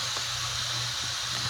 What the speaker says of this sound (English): Bear with me, I'm frying chicken